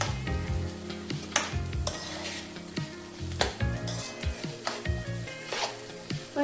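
Paneer sizzles as it is stirred and fried in a pan for Surat-style paneer ghotala, with steady frying crackle and repeated scraping and clinking of a spoon against the pan.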